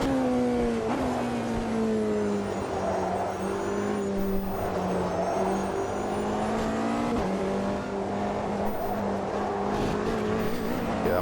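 Hypercar engine in Automobilista 2 racing at Spa, a loud steady engine drone with pitch rising and falling through gear changes, continuous and close, with no talk over it.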